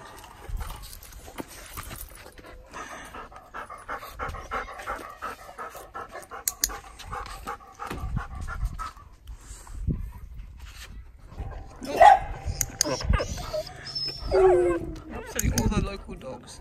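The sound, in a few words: dog panting and barking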